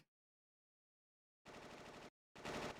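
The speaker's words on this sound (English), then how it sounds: "Gunfire?" Two bursts of rapid automatic gunfire in the video game Final Fantasy VIII, each lasting over half a second, break a long silence; the second burst is louder and closer.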